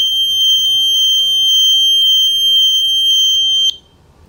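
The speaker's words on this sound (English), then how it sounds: "When it gets down to low power," A piezo tweeter on a low-power alarm circuit built around one IC chip sounds a loud, continuous high-pitched electronic tone for several seconds, then cuts off abruptly, leaving quiet background.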